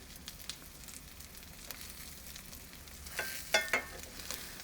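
Eggs fry gently in a pan, shaped to fit a slice of bread for a sandwich. A soft, steady sizzle carries throughout, with a few brief clinks near the end, quiet and close.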